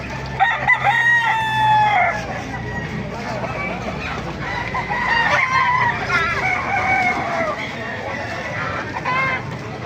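Hennie gamecock roosters crow again and again at a crowded Baliuag market, several overlapping calls near and far over a steady clucking din, with someone talking throughout.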